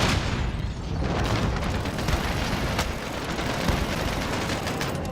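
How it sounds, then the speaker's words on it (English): Grenade explosions and gunfire in a video game battle, a dense continuous roar of booms and rattling shots filling the whole stretch at steady high loudness with no clear gaps. "They always starting to throw grenades."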